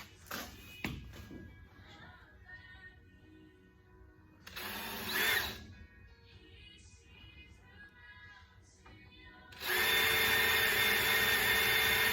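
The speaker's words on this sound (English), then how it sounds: "So I'm gonna just drill a couple more 1/8 inch holes here." A power drill bores 1/8-inch holes for a car side vent window, whirring in short bursts, one brief run midway and a louder sustained spin near the end, with quiet handling noises between.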